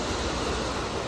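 Ocean waves lap gently at the shore in a continuous soft, hissing wash of surf, steady and even across the short stretch with no voices.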